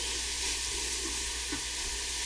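Onion, garlic and ginger sizzling in a hot pan: a constant, hissing sizzle at steady volume, with a couple of faint clinks or stirs underneath and no voices.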